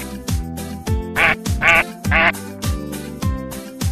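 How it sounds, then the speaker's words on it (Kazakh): A cartoon-style duck quacks in several loud, clear bursts, three prominent quacks in the middle set over a bouncy rhythmic children's music backing. "Үйрек,"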